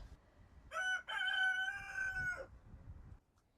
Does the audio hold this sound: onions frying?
no